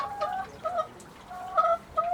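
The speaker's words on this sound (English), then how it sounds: "She's a very pretty chicken." A hen named Betty gives a run of soft, quick clucks in short bursts, fairly close and fairly quiet, with brief pauses between the calls.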